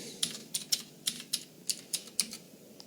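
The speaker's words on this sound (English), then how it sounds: "Enter my password" A password typed on a Mac keyboard: about a dozen crisp, close key taps in a light, slightly uneven rhythm over quiet room tone, with no talk.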